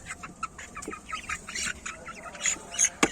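Many Light Brahma chicks chirp and peep in quick, overlapping bursts close by while being fed rice cooked in bone broth, a busy flock calling continuously with sharper cheeps near the end.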